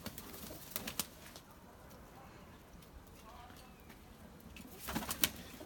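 Breeding pigeons in a loft give soft, low coos with occasional wing flutters and clicks, fairly faint against background noise.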